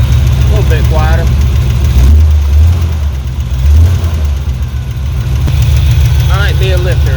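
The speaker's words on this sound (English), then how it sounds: "Might be a lifter tapping. Yeah, it's gotta be a lifter tapping." A truck engine idles loudly and steadily up close, with a persistent tapping lifter knocking under the rumble, which swells briefly once or twice; faint voices come through at moments.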